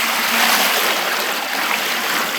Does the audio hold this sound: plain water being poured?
yes